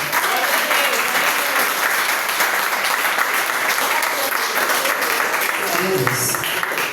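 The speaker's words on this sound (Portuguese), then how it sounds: "E as palmas vão exaltar o nome do Senhor" Congregation clapping steadily through a church service, a dense, sustained wash of applause from many hands with faint voices mixed in underneath.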